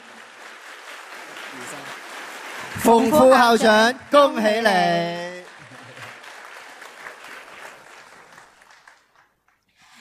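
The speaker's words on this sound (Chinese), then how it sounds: "我们再次以热烈的掌声多谢冯副校长" Audience applause at a school's twentieth graduation ceremony during long-service award presentations: steady clapping runs throughout, while a voice speaks loudly over it for a few seconds mid-clip before the applause tapers off.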